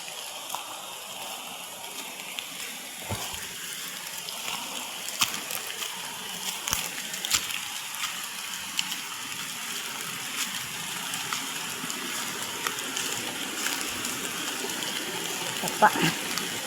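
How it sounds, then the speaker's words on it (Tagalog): A small stream flows steadily outdoors, with a soft continuous trickle and scattered faint splashes and clicks throughout. "Sapa."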